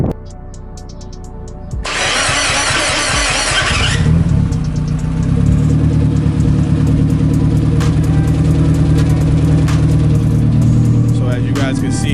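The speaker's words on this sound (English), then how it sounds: "So as you guys can see, Miata's running great, sounds great, love it." A Mazda NB Miata engine starts with a loud burst, then settles into a steady, close running idle that continues without a break.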